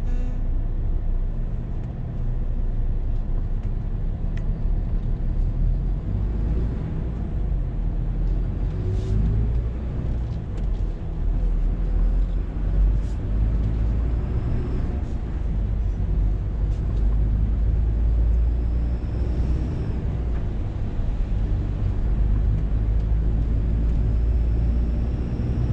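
A car engine pulls away once the handbrake is released, giving a steady, close, low rumble that holds throughout the stretch with no talking over it.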